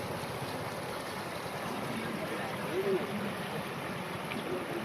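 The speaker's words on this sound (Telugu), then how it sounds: "ఎక్కడ వాగ్ వస్తుంది కదా ఇక్కడ వాగు ఉంది కదా" Water of a stream runs steadily past a damaged bridge in the Nakkala Vagu area, a constant broadband rush close by with a faint voice briefly under it.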